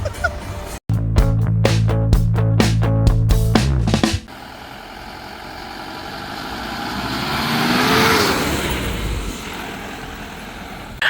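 A jeep arrives in Kanthalloor. A near engine drone with a steady hum cuts off abruptly, then a vehicle approaches, its engine noise swelling gradually before fading slightly.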